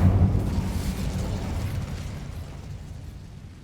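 Incendio fire spell cast in the Hogwarts Legacy video game: an abrupt, booming burst of flame that opens loud and then fades into a rushing roar of fire lasting a few seconds, with no voices.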